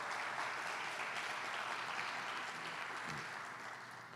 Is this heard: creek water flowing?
no